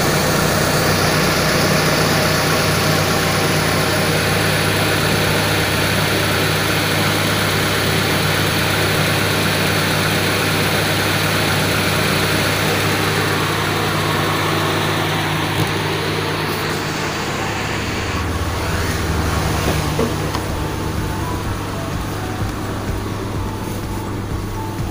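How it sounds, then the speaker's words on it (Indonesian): Engine of a Timor car idling at about 1000 RPM, a steady low hum and faint mechanical rattle held close for the whole stretch, with a slight change in tone near the end and no talking. "Coba kita dengarkan suara mesinnya teman-teman."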